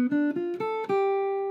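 A clean electric or acoustic guitar plays a short chord-tone jazz line over a ii-V-I progression, four or five distinct picked notes stepping upward and then resolving onto a sustained final note, alone and close.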